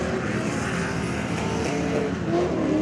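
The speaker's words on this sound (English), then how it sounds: "I think that's a drag car." Drag car taking off at a GRIDLIFE night drift event in South Carolina, a loud, sustained engine roar with rising and shifting pitch, steady and close throughout with no voices.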